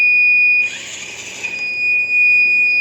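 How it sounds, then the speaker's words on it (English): A steady, piercing electronic tone from a small robot car's obstacle sensor buzzer rings loudly throughout, joined briefly by a harsher buzzing burst in the middle before the plain tone continues. "Now I have my hand as the obstacle, so the buzzer beeps and the car is not moving."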